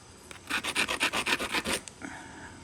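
A stone edge is abraded with a grinder stone during flintknapping of a biface, giving about a dozen quick rhythmic rasping strokes close up, then a fainter scrape.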